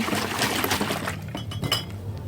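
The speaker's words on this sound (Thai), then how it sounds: "เราเขย่าถังนะคะ เพื่อที่จะให้ยีสต์กระจายตัว แล้วก็ทำงานได้ไวขึ้นนะ" A sealed fermentation bucket of strawberry wine with freshly added yeast is shaken, giving a continuous sloshing of liquid with glassy clinks and knocks that ease off partway through. No one speaks.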